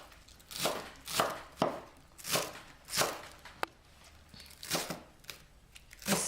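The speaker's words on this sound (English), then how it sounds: "I will cut garlic chive now." A knife chops garlic chives on a cutting board into roughly one-centimeter pieces, a series of about nine crisp, uneven strokes up close, fairly soft overall, with no speech.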